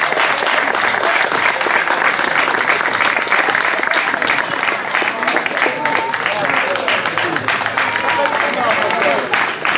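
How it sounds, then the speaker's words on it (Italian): A crowd applauds at a hillclimb slalom event in Bagnara Calabra, dense, continuous clapping from many hands that holds steady and loud throughout, with faint voices mixed in. "l'ultimo applauso e poi tutti congedati."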